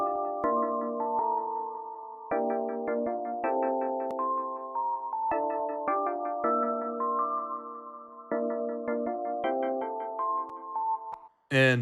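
Bright synth melodies from the Electra key ransom preset in FL Studio play alone, with plucky bell-like chords repeating in a looping pattern. A short loud burst closes the passage.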